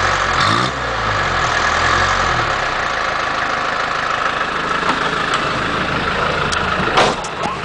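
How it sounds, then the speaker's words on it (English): A 1985 Land Rover 2.25-litre engine idles with a raspy, throaty note, loud and close, holding a steady rumble with a brief rev at the start and a short knock near the end. "This is that traditional Land Rover rasp."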